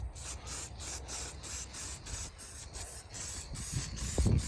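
Aerosol can of Napa trim black spraying paint onto a jet boat nozzle outdoors in wind, a series of short, close hissing bursts in a steady rhythm, with a few low thumps near the end.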